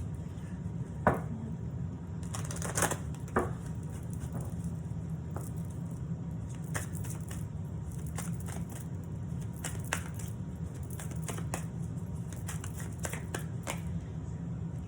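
Oracle cards from the Wisdom of the Oracle deck are shuffled by hand in repeated soft riffles and taps, with brief crisp flutters scattered over a steady low background hum; no speech.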